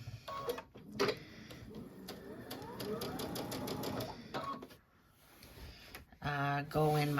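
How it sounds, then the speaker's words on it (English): A domestic sewing machine runs in steady bursts of rapid stitching as it top stitches along a zipper on a fabric bench pillow, stopping and restarting, with a person talking between and over the runs. "just stitching a nice little top stitch here"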